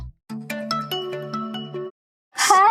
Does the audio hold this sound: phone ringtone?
yes